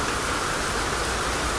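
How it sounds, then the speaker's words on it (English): Heavy rain pours outside in a steady, dense wash of broadband hiss that stays loud and even throughout, with no talk over it. "right now it is raining out like crazy"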